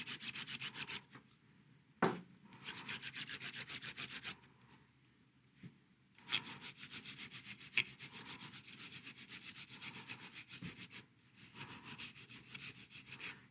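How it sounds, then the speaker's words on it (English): Light scrubbing of a BioTek ELx405 washer's dispense manifold with alcohol, heard as close, steady rubbing strokes in bursts with short pauses between them, no voices present. "and a light scrubbing"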